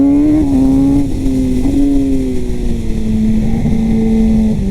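A Kawasaki ZX-10R motorcycle engine roars loud and steady up close, holding a sustained high drone whose pitch sags slightly and wavers across the whole stretch, with no voices.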